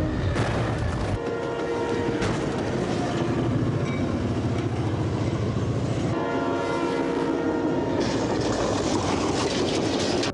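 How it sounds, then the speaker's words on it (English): A train traveling at 35 mph strikes a car, with loud rolling rail noise, blaring horn blasts and crunching impact noise filling the whole stretch continuously and close up. "No one could have survived this crash, and the train was traveling only 35 miles an hour."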